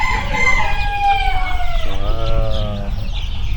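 A rooster crows loudly and close by on a Thai farm, one drawn-out cock-a-doodle-doo that breaks into a lower wavering tail, over a constant outdoor background noise.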